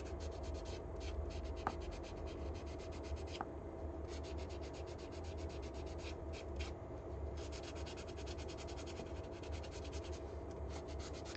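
Sanding pad rubbing across a 3D-printed part being prepped for molding, a steady scratchy rasp with rhythmic back-and-forth strokes running continuously at a quiet level, no talking.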